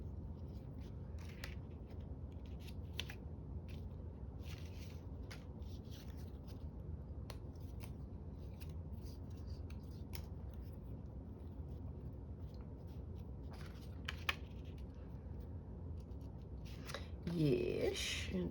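Small decal scissors cut through paper during a junk journal craft session, giving soft, quiet snips at an irregular pace close to the microphone, with faint talk near the end.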